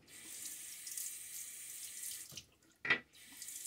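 Water runs steadily from a tap while a razor is rinsed, a soft continuous hiss with a brief splash or clink near the end, quiet and close.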